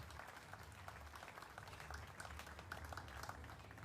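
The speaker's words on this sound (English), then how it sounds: "Let's give all of them another big round of applause for being here." Audience applause for guests at a state fair FFA celebration, a steady wash of many hands clapping, moderately faint and continuous with a low rumble of crowd noise underneath.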